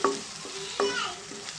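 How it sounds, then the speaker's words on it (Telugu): Onions frying in a pan for chicken curry sizzle steadily while a utensil stirs them, making a few sharp scraping clacks against the pan. "ఉల్లిపాయ అయితే ఫ్రై అయిందండి"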